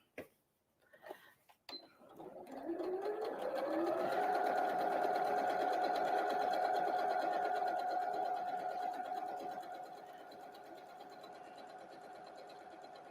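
Sewing machine stitching curved seams on Christmas tree napkins: a few short taps, then a steady whirring run that holds for several seconds before easing to a softer hum.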